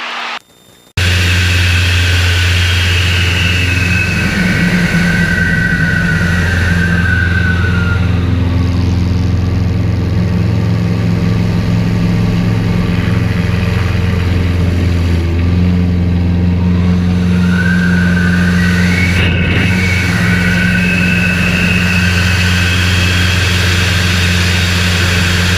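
A single-prop aerobatic plane's engine droning loud and continuous through corkscrew rolls to the right, its pitch sweeping down then back up as the aircraft rotates, with no talk.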